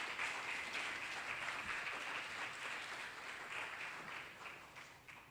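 An audience at an anti-war movement talk with music applauds a performer, a continuous soft wash of clapping that stays fairly even and distant before slowly easing off.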